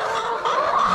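Hens in a poultry coop give a short burst of clucking and murmuring, close and fairly loud, lasting about a second without any talk.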